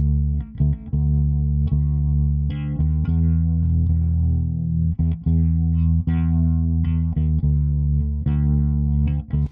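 A bass guitar runs through a Rotor plugin with light drive distortion, its sustained, slightly gritty notes plucked in a steady rhythm and played alone.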